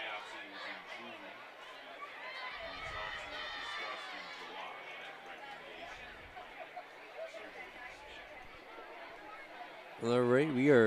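A crowd at a high school football game in Minnesota fills the stadium with a steady murmur of chatter, under a commentator talking, with a louder burst at the end.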